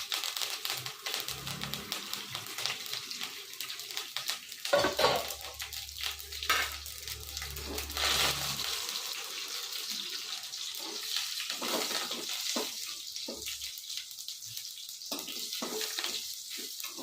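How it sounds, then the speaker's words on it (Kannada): Curry leaves dropped into hot oil for chitranna, a bright crackling sizzle with scattered pops and stirring clatter, close and steady with no talking. "ಹಾಗೆ ಕರಿಬೇವು ಹಾಕ್ಕೊತಾ ಇದ್ದೀನಿ ನೋಡಿ"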